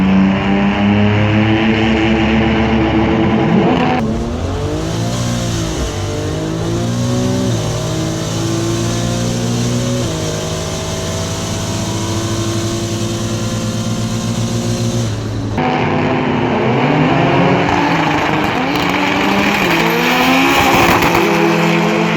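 Front-wheel drive import race cars, including a Honda Civic, accelerate hard at a drag event, with engines revving up through rising gear pulls, a shift drop and a second wave of revs, loud and close throughout.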